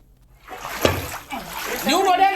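Water splashing in a flooded village home, where a burst lift-irrigation pipeline has let water into the houses. A sharp splash comes through near the middle, and sloshing continues along with voices.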